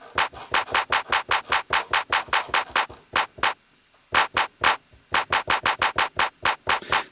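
Crisp claps repeat in quick, even succession, pause briefly twice, then resume; each hit is sharp and bright with little low end.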